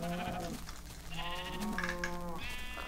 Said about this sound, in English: Yeah, I just killed a sheep.